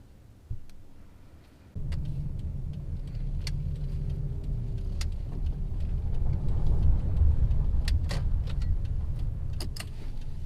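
A car driving to a delivery customer gives a steady, close interior engine and road rumble after a door thump and start-up, with occasional small clicks and rattles over the constant drone.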